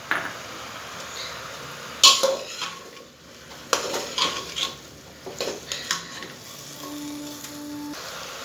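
Washed red lentils are tipped into a pan and stirred with a utensil, producing close scraping, clinks and knocks against the pan in irregular bursts over a faint background sizzle.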